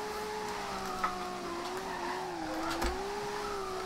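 A Nissan Skyline R32 drifts through a corner in Forza Horizon 2, a sustained engine drone wavering in pitch with a faint tire squeal beneath, steady and close.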